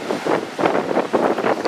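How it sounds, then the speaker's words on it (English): Strong wind blows outdoors, heard as rough gusty buffeting against the microphone in rolling surges over a couple of seconds, loud and close. "It is super windy out."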